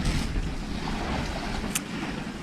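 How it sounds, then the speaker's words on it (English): Waves wash onto a beach in Belize as a steady, broad rushing roar, with wind buffeting the microphone and a brief high chirp partway through. "You can hear those waves."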